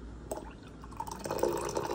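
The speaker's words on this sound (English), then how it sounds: "let me show you guys the pouring and how smooth you pour it" Water pouring in a thin, steady stream from the gooseneck spout of a Cocinare electric kettle, a soft close trickle and splash that builds slightly as the vessel fills.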